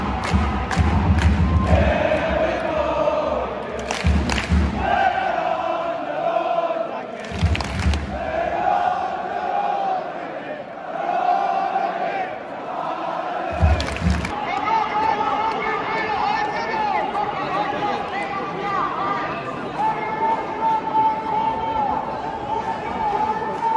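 Thousands of ultras roar and chant steadily at a Celtic women's football match, a dense, loud stadium crowd with heavy thumps and surges throughout.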